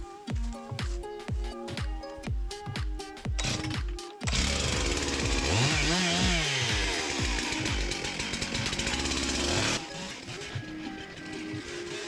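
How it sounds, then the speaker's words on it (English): A chainsaw clears brush on a whitetail hunting property, first revving in short repeated bursts, then running loud and steady through a long continuous cut before easing off, close by with no talk. "I made it back down here with the chainsaw."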